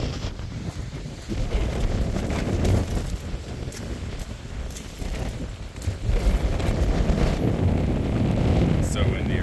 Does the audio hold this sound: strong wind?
yes